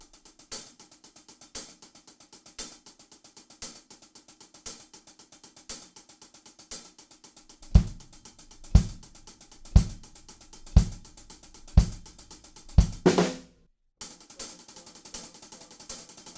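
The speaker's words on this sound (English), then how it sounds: "we're gonna play on the hi-hats an accent beat 2 and beat 4," Drum kit groove, played alone: steady hi-hat pattern with accents on beats two and four, then the kick drum joins with heavier, evenly spaced hits before a sudden cut.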